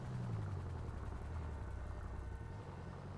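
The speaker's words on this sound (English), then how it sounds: "Ooh, helicopter." A police helicopter in a role-play video game passes overhead, its low rotor thrum and engine drone holding steady and fairly loud throughout.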